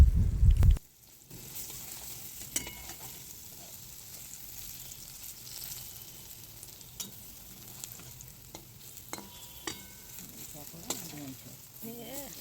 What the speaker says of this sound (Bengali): বড়াগুলো ভাজার সময় আঁচটা একদম মিডিয়াম রাখতে হবে নাহলে বড়াগুলো কিন্তু পুড়ে যাবে